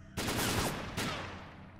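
Gunfire in the video game S.T.A.L.K.E.R., two loud shots with echoing tails, the first a brief burst and the second a single report fading out.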